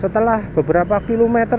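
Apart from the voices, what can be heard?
None of the usual background noises is heard.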